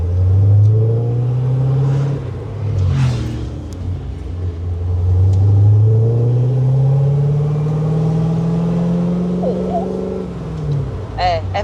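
A 1964 Chevrolet Corvette engine rumbles loudly from inside the car while it drives, its low tone rising and falling through several revs and gear changes. Faint voices and brief chirps can be heard in the background.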